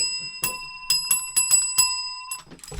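A small bicycle-style bell is struck repeatedly at close range, about eight bright metallic rings in an uneven rhythm, each with a clear sustained tone, alone without talk.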